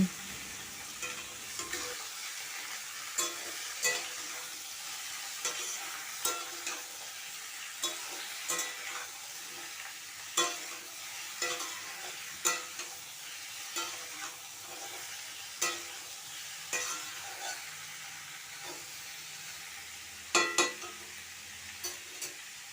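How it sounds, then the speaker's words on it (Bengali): Young jackfruit pieces fry in hot oil in a wok, a soft steady sizzle broken by repeated scraping stirs at irregular intervals, close and moderately quiet with no talking. "তেলটা গরম করে তারপরে এঁচড়গুলোকে ভেজে নিচ্ছি"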